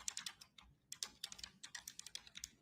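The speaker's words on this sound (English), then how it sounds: "she's got a big clacky keyboard like me." Rapid clacky keystrokes on a big mechanical computer keyboard, a steady run of sharp close taps in quick bursts with no voices.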